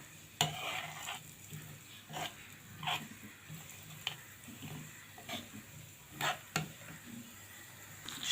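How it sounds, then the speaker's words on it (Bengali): Semolina stirred and fried in ghee in a pan, with a soft continuous sizzle under repeated scraping strokes of a spoon against the metal, fairly quiet and close. "নেড়ে চেড়ে ভালো করে সুজিটা ঘি দিয়ে ভেজে নিব।"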